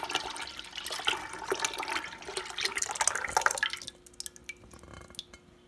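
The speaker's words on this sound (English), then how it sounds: "now I'm going to take this bowl and reintroduce it back into the main pot" Yogurt mixture is poured from a bowl into a pot of boiled milk. A quiet, close liquid splashing and trickling runs for about four seconds, then thins to a few soft drips.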